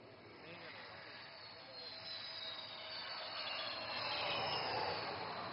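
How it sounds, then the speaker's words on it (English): A twin-engine fighter jet weighing over 38 tons approaches to land on a highway, its distant roar and whine slowly building louder as it nears, heard over a faint commentator's voice. "this twin-engine fighter demands nothing but absolute precision while landing on this highway"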